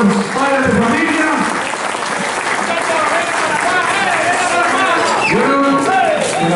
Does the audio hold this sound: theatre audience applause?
yes